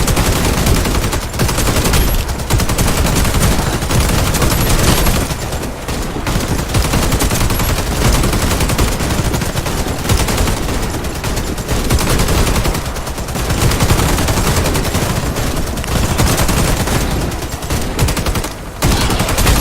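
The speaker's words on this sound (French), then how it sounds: "Tu tires tout ce qui est à gauche avec un rifle" Rifle fire rattles nonstop through a French-language video game battle in Opération Spécial Blackout, loud dense bursts of gunfire layered over shouting and combat noise.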